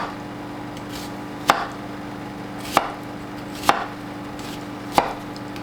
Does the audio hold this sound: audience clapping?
no